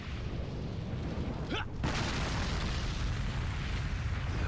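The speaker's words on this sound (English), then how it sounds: "Kaboom!" A video game explosion bursts partway through as a sharp broadband boom, then a heavy rumbling wash lingers over steady background noise.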